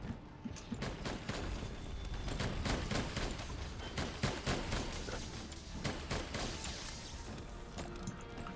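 Rapid gunfire in the video game Monster Hunter World: dense, overlapping shots and crashing impacts that rattle on steadily for several seconds at moderate loudness, with no talking.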